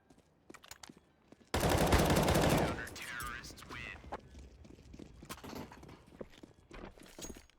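AK rifle gunfire in Counter-Strike, a dense burst of rapid shots lasting about a second, followed by game footsteps and scattered clatter, with a commentator talking over parts of it.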